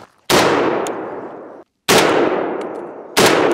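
Three loud, sharp gunshots from a Hungarian designated marksman rifle fired outdoors, each a hard crack followed by a long ringing decay, spaced more than a second apart.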